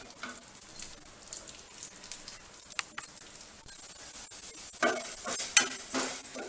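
Urad dal frying in oil and being stirred in a pan for garlic idli podi, with a soft sizzle, scraping stir strokes and scattered crackles that grow busier and louder toward the end.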